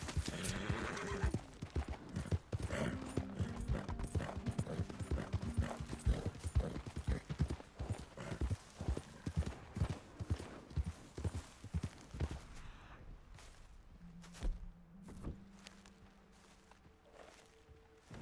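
Hooves clip-clop in a busy, irregular rhythm for several seconds, close by, then thin out to a few scattered steps with a horse's snort and whinny.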